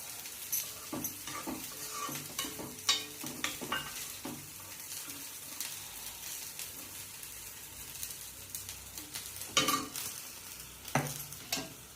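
Ragi (finger millet) dosa cooking with oil on a pan, a continuous soft frying sizzle broken by scattered scrapes and clinks of a utensil against the pan.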